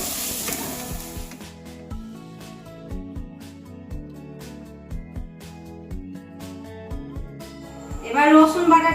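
Chicken mince and onions sizzle and fry in a pan for momos, a steady crackle heard under a person talking and some background music.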